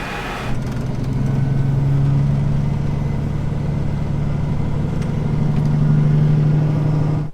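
An excavator's diesel engine runs steady and close while the machine is repositioned on a farm site, holding a loud, even drone with slight swells in load and no talk over it.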